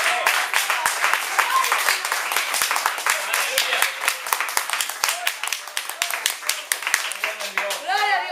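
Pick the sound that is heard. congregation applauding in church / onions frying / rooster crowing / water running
congregation applauding in church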